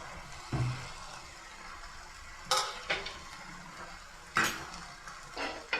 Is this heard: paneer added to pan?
yes